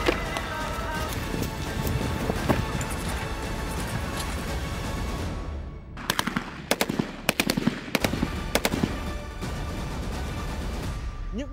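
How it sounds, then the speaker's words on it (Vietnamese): Police special forces fire weapons during a tactical movement-and-shooting drill at a martial arts gala, with dense, loud gunfire under a roaring backdrop, then a series of sharp, distinct shots cracking out in quick bursts. "Bài tập kỹ chiến thuật vận động bắn súng ứng dụng như thế này"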